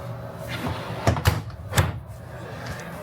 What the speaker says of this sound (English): 2 drawers that will open up